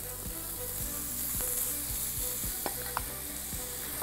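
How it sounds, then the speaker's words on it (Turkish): Chicken pieces frying in a Teflon pan on high heat without oil, a dense close sizzle with the scrape and clack of stirring utensils repeating throughout. "Bu cız sesini duymanız lazım."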